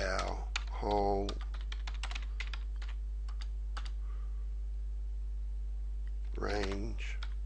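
Clicks of a computer keyboard as text is typed into a web page setup tool, a quick irregular run of close, crisp keystrokes over a constant low hum, with brief speech at the start and end.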